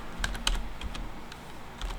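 Quick, uneven clicks of keys being pressed on an AZERTY computer keyboard, close up, with a few short pauses between bursts.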